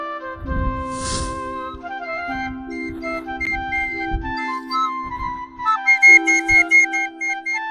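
A bansuri flute plays a steady melody of sustained notes that step between pitches, with dull low thumps and rustling beneath it.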